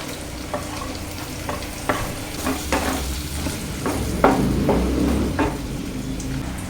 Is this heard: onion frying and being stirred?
yes